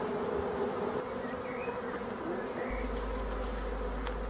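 Honeybees buzz in a steady, dense drone close by as a swarm is gathered from a tree branch, the hum continuous and unbroken with no voices.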